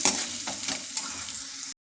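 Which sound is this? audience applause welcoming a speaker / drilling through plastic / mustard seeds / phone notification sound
mustard seeds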